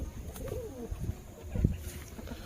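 Soft, low cooing from nearby Malbe-line pigeons, a few throaty warbling calls rising and falling over quiet room background, with no talking.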